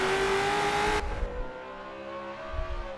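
Race car revving hard during burnouts on a front straightaway, a loud sustained engine roar with steady harmonic tones that drops in pitch and level after a second, then lingers as a lower rumble.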